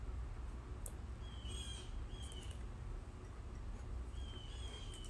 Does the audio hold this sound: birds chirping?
yes